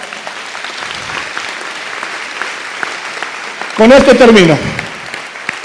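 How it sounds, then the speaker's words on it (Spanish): A church congregation applauds, a steady wash of clapping that runs throughout, while a voice speaks briefly over it near the end. "Den un fuerte aplauso al Señor."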